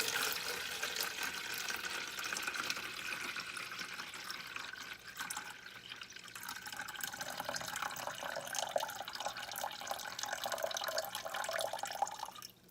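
Water trickles and splashes steadily into a container for several seconds, a continuous close pour with a brief lull partway through.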